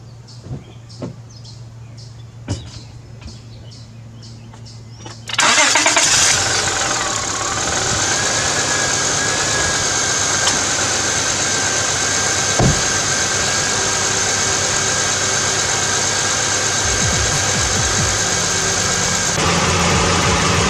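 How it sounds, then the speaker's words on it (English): A car engine cranks and catches after a few seconds on a concrete driveway following an oil change, then settles into a loud, steady idle that runs unbroken to the end. "I'm gonna go ahead and turn on the car"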